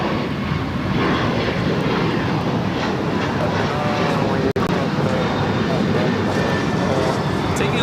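An Alaska jet takes off from runway 25 right at LAX with a loud, steady engine roar, while a voice talks over it throughout.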